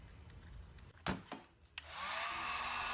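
A heat gun switches on after a few knocks and handling clicks, then blows with a steady airy whoosh while warming vinyl wrap film on Ford F-150 door pillars, close and continuous.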